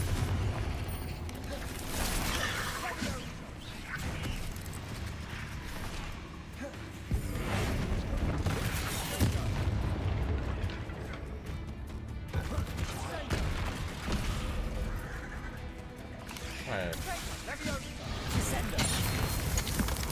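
Confringo fire-blast spells in Hogwarts Legacy set off dense, continuous booming explosions and crashing impacts, loud and sustained, with a player's voice occasionally over the combat.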